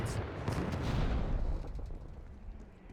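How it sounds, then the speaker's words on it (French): Grenade explosions in Call of Duty Black Ops 6, a frag and a stun grenade, burst loud and booming at the start with rumbling debris that fades over the following seconds. "Je lance une frag. Je lance une grenade paralysante."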